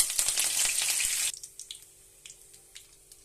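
Crushed garlic and curry leaves hit hot oil in a pan and sizzle loudly for over a second, then fall to a quieter crackle broken by small scattered pops.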